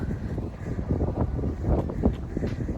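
Wind gusting against a microphone outdoors, a loud, uneven low rumble that swells and buffets throughout, with brief faint scuffs on top and no speech.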